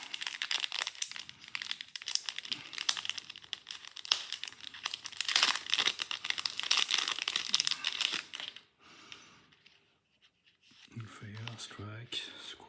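Second wrapped pack of game cards for the Tatsumi & Void expansion being opened: steady close crinkling and tearing of plastic wrap for several seconds, then quieter rustles and handling of cards.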